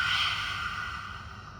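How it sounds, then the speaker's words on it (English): A deep exhale through the mouth during a backbend yoga flow, a close, breathy whoosh that starts strong and slowly fades away, heard alone. "deep breath out through the mouth"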